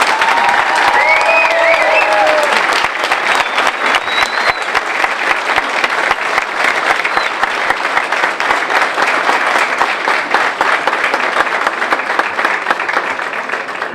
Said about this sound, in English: Please help me in giving a rousing applause for Teddy,